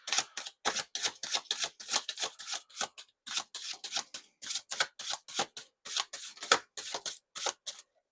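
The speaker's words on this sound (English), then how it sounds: "It's a little hard to shuffle." Rapid papery riffling and flicking, like a deck of cards being shuffled close by, repeating in quick bursts with no talking.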